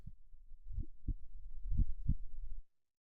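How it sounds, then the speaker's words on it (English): A low heartbeat thumps in a quick run of soft muffled beats, with a faint purring rumble beneath them, and then stops abruptly. "there's a purring sound behind the sound of the heartbeat, and the top of the purring sound has a chirp"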